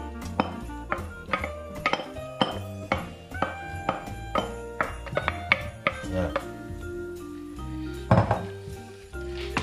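Onion with speck goes into a pot of fried rabbit, with metallic clinks and clatters of a utensil against the pot. The knocks come in irregular bursts at moderate loudness, with a louder clunk near the end.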